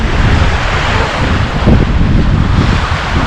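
Waves wash onto the shore of Lake Ontario on a snowy winter day, heard as a constant broad rush. Heavy wind buffets the microphone and largely covers the surf, loud and steady throughout.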